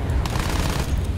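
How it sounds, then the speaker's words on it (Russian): Gunfire in the Battlefield 1 video game: a dense burst of rapid shots from a gun with heavy spread, loud and continuous, with low booming weight. "Какой сильный разброс у этой пушки."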